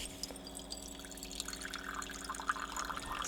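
Water pours from an electric Dometic GO camping faucet into a cup at an outdoor camp table, a close, steady trickle with a few small splashes and drips.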